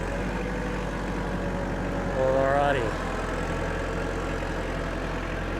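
Tractor engine on a farm, hauling leftover dirt to a dump spot, revs briefly mid-clip with a rising whine, then settles back to a steady idle rumble; a voice speaks once.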